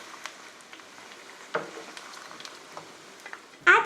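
Pork belly pan-frying over medium heat, a low steady crackle of rendering fat with scattered small pops and one sharper spatter near the end, no talking.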